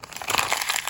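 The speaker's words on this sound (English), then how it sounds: "I'm going to crumple up some of a paper bag." A paper bag is crumpled by hand for journal-card texture, giving a steady, close, dry crinkling and rustling that lasts under a second with no voices.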